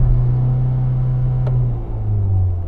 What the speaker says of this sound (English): I'm going to rev up mine.